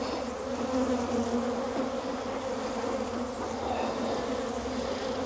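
Dense, continuous buzzing of many honey bees at an open hive during an inspection, a close, steady drone with no talk over it.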